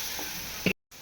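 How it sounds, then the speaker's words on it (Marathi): Grated bhagar ingredient frying in a pan over a low flame gives a steady, soft sizzle, with a brief clunk near the end before the sound cuts out for a moment. "कीस हा लाल होईपर्यंत तुम्हाला फ्राय करायचा आहे।"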